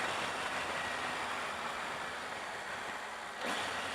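A 2018 Triumph Tiger 800 XRt motorcycle engine while riding, a steady, loud drone over rushing wind with a brief dip and a shift in pitch near the end.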